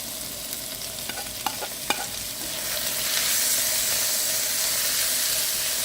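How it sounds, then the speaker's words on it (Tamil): Tomatoes go into a pan of softened onions for mushroom masala. A few sharp spoon clicks and stirring scrapes are followed by a steadily louder, close hissing sizzle. "தக்காளியை போட்டுருவோம்."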